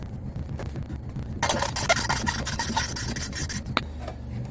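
An engine valve from a 350 is spun with a drill against its seat during lapping, a harsh continuous grinding rasp that starts abruptly and runs for about two seconds before stopping, close up with no speech.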